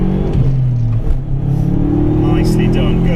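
A race car engine drones on the track at Mallory Park, its steady mid-pitched note wavering slightly under light throttle, loud and close inside the cabin while an instructor talks over it.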